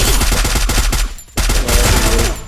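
Rapid automatic gunfire from a weapon shooting an enemy in the Free Fire Max battle royale game, a loud fast burst of shots that breaks off briefly and then resumes with continued firing.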